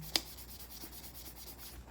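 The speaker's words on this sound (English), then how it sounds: "I finished sanding all the way around both cans." Aluminum cans being scrubbed with an abrasive pad to sand the paint down to bare metal, a faint, steady rubbing with soft repeated strokes and one brief click near the start.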